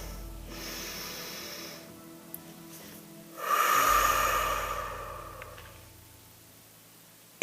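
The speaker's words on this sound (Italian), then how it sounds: "Facciamo un bel respiro profondo." A slow deep breath taken during a calm tarot reading, a long quiet inhale followed by a louder rushing exhale that fades away, close to the microphone, with no talk.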